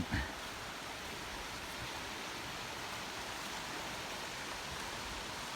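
A small waterfall in a snowy backyard in Sweden gives off a steady, even rush of running water with no breaks, close and constant from start to finish.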